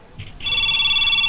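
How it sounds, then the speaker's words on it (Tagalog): A cellphone rings with a steady electronic tone that starts abruptly and holds loud and continuous, preceded by a brief faint rustle, in an Ilocano drama scene. "Ti cellphone ko."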